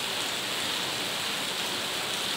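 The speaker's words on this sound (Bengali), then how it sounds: "বৃষ্টি এখন একটু কমছে, ওই জন্য অনেক জোরে ছিল, এখন একটু কমছে" Rain easing off, a steady even hiss of falling drops with no breaks, moderately loud throughout this short stretch.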